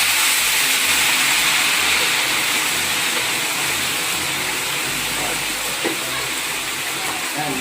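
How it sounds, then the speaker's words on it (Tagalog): Steady loud hissing and sizzling of cooking oil boiling in a large wok for making chicharon, a continuous rushing noise with faint low rumbling underneath. "kumukulo na yung mantika natin"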